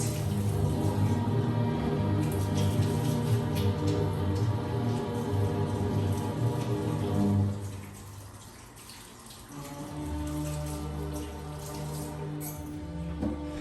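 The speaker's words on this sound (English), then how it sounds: "Rinse my hands off here a bit." Hands rinsed under a running kitchen tap while cooking scrambled duck eggs, a steady splashing water stream that dips and softens midway before resuming, with no talking.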